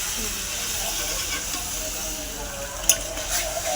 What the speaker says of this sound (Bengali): এবার জল দিয়ে দেবো পরিমাণ মতো ঝোলটা বাড়িয়ে নিচ্ছি